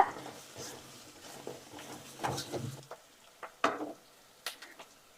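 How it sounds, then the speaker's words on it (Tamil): Ginger garlic paste sautéing in a pan for mutton curry: faint, close sizzling with several short scrapes and taps of a spoon against the pan. "இஞ்சி பூண்டு பேஸ்ட் எல்லாம் வதங்கிடுச்சு"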